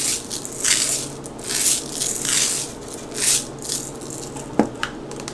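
A container of sprinkles is handled and shaken, giving several soft rattling bursts of tiny grains in uneven waves, close and fairly quiet, with a sharper knock near the end.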